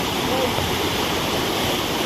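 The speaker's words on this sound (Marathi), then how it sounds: "हे बघा इकडे खाली पाणी वाहत आहे" Devkund waterfall's water rushes beneath a small footbridge, a dense, unbroken hiss and roar heard up close with no voices.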